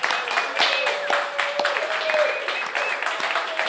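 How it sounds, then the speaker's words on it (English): A small studio audience at a live radio show applauds with scattered, uneven claps, while faint voices and a soft tone run underneath. "Yeah, you can applaud."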